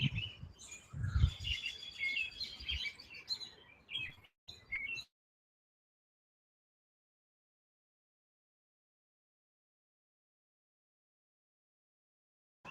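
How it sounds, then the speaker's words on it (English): Busy birdsong with many overlapping chirps and tweets for several seconds, fairly close, then the sound cuts off into silence. "Hear all the birds going crazy, you guys?"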